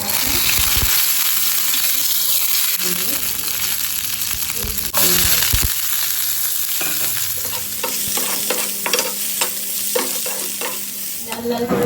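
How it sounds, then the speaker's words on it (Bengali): Onions fry in hot oil with curry leaves in a pan for a flattened-rice pulao, giving a steady, loud sizzle throughout with occasional stirring scrapes and clatters, and no voices. "পেঁয়াজ ভাজা হয়ে গেছে"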